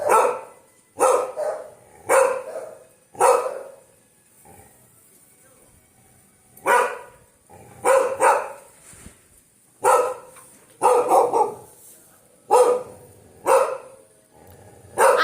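Dogs bark indoors in a house in repeated sharp bursts, singly and in quick pairs, with short gaps between them.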